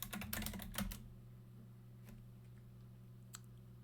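Fast keystrokes on a computer keyboard enter an admin login and password, a quick cluster of close clicks lasting about a second, followed by a couple of isolated taps in a quiet room.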